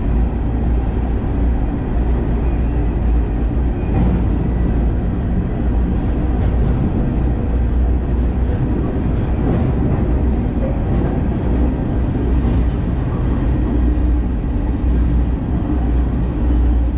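Riding aboard a moving freight train gives a loud, continuous rumble and roar of rail cars rolling at speed, with faint clanks and rattles throughout and no talk.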